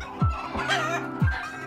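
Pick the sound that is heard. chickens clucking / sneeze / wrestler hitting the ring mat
chickens clucking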